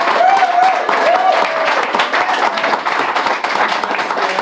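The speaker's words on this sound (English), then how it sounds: "Guys, please, big round of applause for Olesya from Mars Nation." Audience clapping for a guest on a podcast recorded with a live band, a dense steady wash of applause throughout with voices and a few whoops rising over it.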